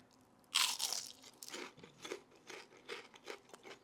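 A sharp, loud crunch as someone bites into a crispy fried onion ring, followed by a series of rhythmic, softer crunching chews up close.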